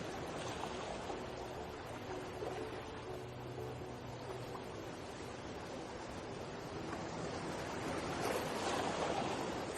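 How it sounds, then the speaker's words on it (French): Sea waves wash steadily onto a beach in a soft, continuous rush of surf, moderately distant and even in level with gentle swells and no voices. "Le bruit des vagues continue de vous bercer doucement"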